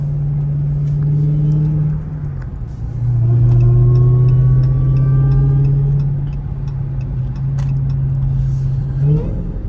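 A Dodge Hellcat engine drones loudly from inside the car on a late-night drive, a steady low rumble that climbs and drops in pitch as it shifts and accelerates.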